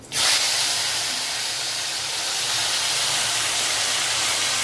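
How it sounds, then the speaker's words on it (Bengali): Okra hisses and sizzles steadily in hot oil in a pan, a loud, continuous broadband fry that starts abruptly as the pieces go in and holds evenly without talk. "তেলটা গরম হয়ে গেছে, এবার ভেন্ডিটা হালকা করে ভেজে নেব"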